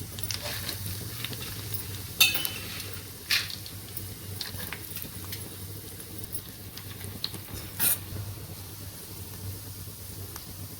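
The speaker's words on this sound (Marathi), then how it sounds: "चला आता हे सगळे जे ड्रायफ्रूट आहेत ते सगळे आपण तुपात तळून घेऊ." Dry fruits fry in hot ghee for rice kheer, giving a soft bubbling sizzle broken by a few sharp clicks and pops as pieces are stirred, with no talk.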